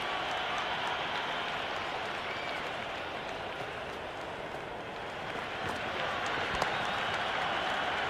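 Dense, steady roar of a cricket crowd cheering and applauding at a Big Bash T20 match between Sydney Sixers and Adelaide Strikers, continuous and loud throughout with no break.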